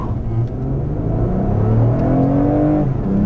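Engine of a 2019 Lexus ES accelerating at full throttle in Sport Plus mode, a loud, continuous drone that climbs steadily in pitch as revs build, heard from inside the car with no talking.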